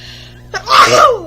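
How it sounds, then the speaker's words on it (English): A single close, loud sneeze: a short inhaled build-up followed by a sharp explosive burst that fades quickly. "I need to sneeze."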